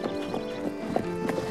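Horse hooves clip-clop in an uneven rhythm at close range, with a brief whinny mixed in and no talking.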